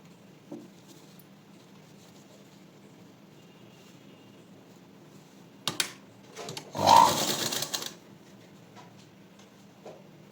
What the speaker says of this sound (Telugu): ఈ రెండో షే బెల్ట్ని కూడా స్టిచ్ చేసుకోవాలి